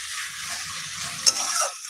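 Taro stolons with spices being stirred and mixed in a hot pan, a close hissing sizzle with brief scraping clinks from the utensil, no voices.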